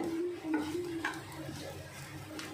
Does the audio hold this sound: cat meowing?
no